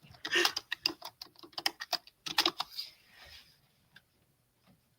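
Fingers type on a computer keyboard in quick irregular bursts of close clicks, then slow to a few scattered keystrokes and fall nearly silent.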